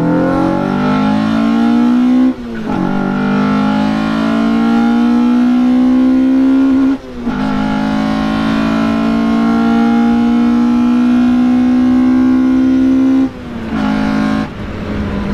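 Mazda MX-5 NB with an individual throttle body setup, engine droning loud and steady while driving, pitch climbing slowly through each gear before brief dips at shifts, three long pulls in a row with no talk.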